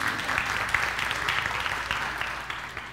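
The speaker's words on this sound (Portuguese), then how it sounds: "Uma salva de palmas pro Mateus." A class audience at a Portuguese-language lesson claps for Mateus, a short burst of steady applause from a modest group that tapers slightly toward the end.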